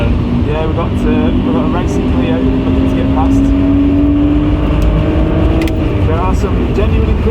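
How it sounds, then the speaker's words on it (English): A racing Renault Clio on the circuit at Donington Park, its engine a steady loud drone with a rising pitch as it closes in, heard from inside another car over constant wind and road noise while someone talks. "we've got a racing Clio looking to get past"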